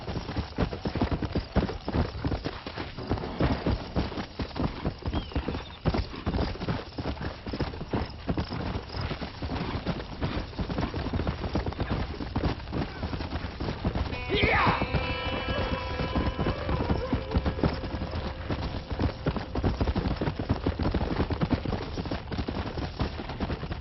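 Horse hooves gallop in the video game Red Dead Redemption, a fast steady clip-clop under constant game noise with a brief whinny midway.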